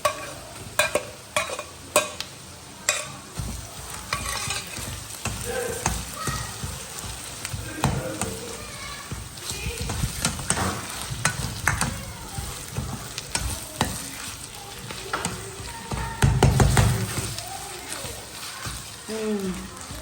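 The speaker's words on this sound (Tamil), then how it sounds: "வெங்காயம்லாம் வதங்கிருச்சு" Onions with ginger-garlic paste sauté in a pan, giving a steady close sizzle broken by frequent scraping stirs and clinks, with a voice heard briefly near the end.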